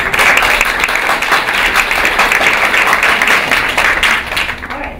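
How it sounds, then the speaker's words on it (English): A standing audience at a talk gives loud, sustained applause, dense and close, tapering slightly at the end without speech. "I want to give her a round of applause."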